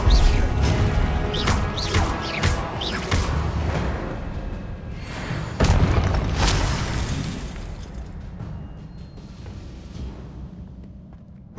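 A Confringo blasting spell in Hogwarts Legacy: repeated sharp crashing bursts come in quick succession, with one big impact near the middle. The blasts then fade into a lower rumbling tail, with no talk.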